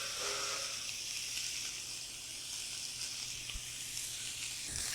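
A pork chop sears in a hot skillet, giving a faint, steady sizzle and hiss with a couple of soft knocks or clinks from the pan.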